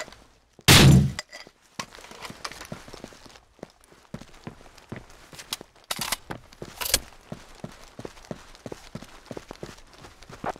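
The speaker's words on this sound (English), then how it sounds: "Flashbang, out!" A flashbang grenade goes off early in a Rainbow Six 3 Raven Shield round, one loud sharp burst, followed by quick footsteps and clatter with a couple more bangs later.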